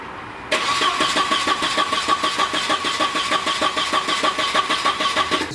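A Volvo 940 engine cranks and fires after a fuel pump replacement, a steady rapid starter-and-engine chatter starting abruptly after half a second and running loud and close to the end, with no talk.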